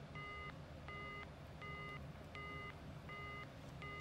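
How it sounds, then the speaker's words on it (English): Repetitive telephone signal tones beep on a phone call, six evenly spaced short electronic pulses about two-thirds of a second apart, faint over a steady noisy line hiss, with no talking. "There is a repetitive signal."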